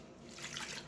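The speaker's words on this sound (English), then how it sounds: "Now the first thing I want to add in is the water." About a cup of water (1 1/3 cups) is poured into lemon meringue pie filling: a soft, steady splashing trickle, faint and continuous for about a second.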